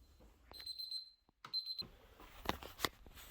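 An old cell phone serving as a kitchen timer sounds its alarm in a run of repeated electronic beeps, with a short pause before it starts again, fairly close by, with some clatter and movement in between.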